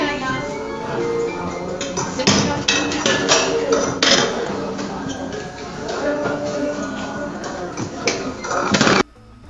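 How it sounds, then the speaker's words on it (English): AI-generated noisy restaurant ambience: a dense, busy mix of clattering dishes, knocks and clinks over a blur of indistinct chatter, loud and continuous, then cutting off abruptly near the end. "Yep, that was a noisy restaurant."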